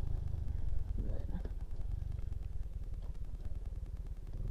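A small three-gear pit bike with no clutch runs with a steady, low, buzzing engine note close by, putting along continuously while someone talks over it.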